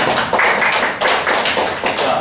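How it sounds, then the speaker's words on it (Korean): An audience claps at a live sales presentation, a loud, close patter of many hands that stays steady and unbroken with no voices over it. "박수 한번 주세요."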